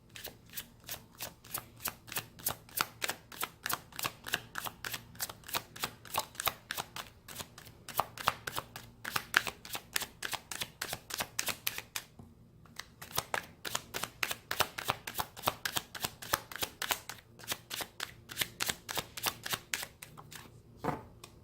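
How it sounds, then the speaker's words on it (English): A deck of tarot cards being shuffled by hand, a quiet close series of rapid riffling bursts repeating in quick succession with a few short pauses, no talking. "Let's see if I can shuffle."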